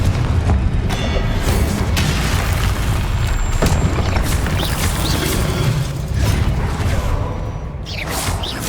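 Dense, rumbling Confringo spell explosions and battle noise in Hogwarts Legacy, a steady loud wash of booms and whooshes with no clear gaps.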